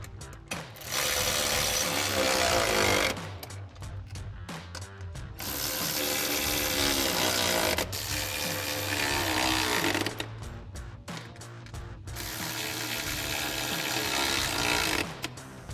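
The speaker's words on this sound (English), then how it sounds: "grab our 13mm socket and extension on our ratchet and begin tightening down our bolts" A ratchet with a 13mm socket and extension tightens bolts holding side step boards to brackets on a Bronco. Long bursts of fast, close clicking alternate with short pauses.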